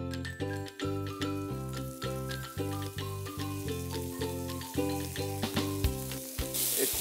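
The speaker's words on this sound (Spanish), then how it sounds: "Vamos a proceder adelante, a freír." Rollitos Tokio sizzle and crackle steadily in hot frying oil, a close, continuous hiss with small pops and bubbling that holds throughout, with no voices over it.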